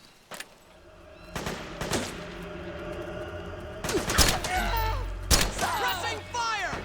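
Gunfire in the PlayStation 3 game Metal Gear Solid 4: Guns of the Patriots, with scattered shots and bursts mixed with shouting soldier voices and a low rumbling battle background.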